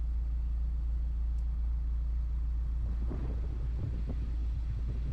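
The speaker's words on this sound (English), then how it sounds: "And eventually, the car begins to move." Manual-transmission car idling with a low, steady engine rumble as the clutch is slowly let out, faint mechanical clunks and a slight rise in engine load near the end as it begins to creep forward.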